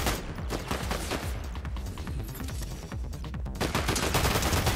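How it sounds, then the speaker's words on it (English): Gunshots ring out in a Fortnite match, dense and continuous across the whole stretch, loud and close with sharp repeated cracks and no pause. "This guy just got sniped at?"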